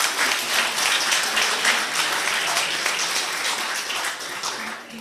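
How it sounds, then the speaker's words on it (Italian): Audience applause at a Catholic church gathering in Italy, steady dense clapping filling the hall throughout and easing slightly toward the end, with no talk over it. "Bravo, un applauso."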